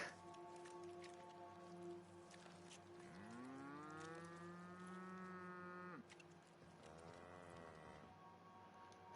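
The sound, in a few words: cows mooing in video game The Outer Worlds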